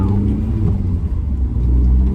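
Steady low engine drone from a 2004 Suzuki Ignis Sport hatchback on a road test drive, a continuous rumble with slight rises in pitch as it pulls along, heard from inside the cabin.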